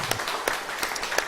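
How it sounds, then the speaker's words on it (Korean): At a Korean Sunday church service, a congregation's applause welcomes a newly introduced member, a brief, even patter of many hands clapping across the room. "박수로 뜨겁게 환영해 주시기를 바랍니다"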